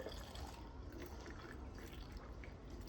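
Water pours steadily into a plastic bottle kept for dosing a cow with medicine on a dairy farm, giving a faint, continuous gurgling trickle with no speech over it.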